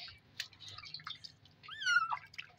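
A kitten being bathed gives thin, high mews while water drips and splashes close by, with a faint low hum underneath.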